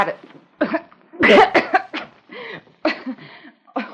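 Series of harsh, raspy coughs from an actor in an old radio drama, several bursts in irregular rhythm with one louder, deeper cough near the middle, close and dry.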